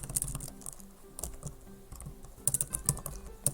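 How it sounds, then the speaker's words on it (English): Typing on a computer keyboard: quick, close key clicks in uneven bursts with short pauses, heard alone. "So what you do, you have to just type"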